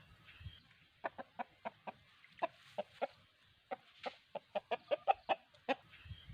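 Chicken giving a rapid run of short, sharp clucks in uneven bursts while being bathed, fairly close and moderately loud, with light splashing and handling noise underneath.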